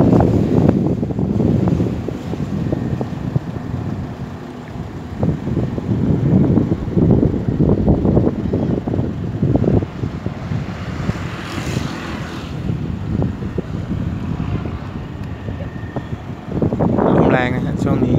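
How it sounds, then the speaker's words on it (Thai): Strong wind from storm Pabuk in Thailand, with cloudy skies and no rain yet, rushes and buffets the microphone in rough, uneven gusts, loud and close, while someone talks throughout. "ขอบฟ้า มีเมฆมากมีลมแรง"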